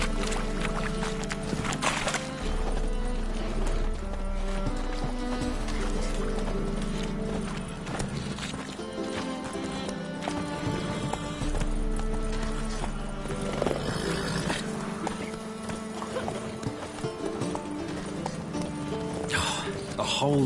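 Hoofbeats of the horse Roach in The Witcher 3, a steady clip-clop gait under game music and ambient sound, with a voice speaking over parts of it.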